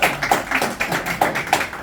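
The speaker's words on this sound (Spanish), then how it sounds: "Un aplauso para Salva" Audience applause for a guest on a Spanish talk or radio segment, heard as a steady run of close, sharp claps with a few louder accents, short and without voices.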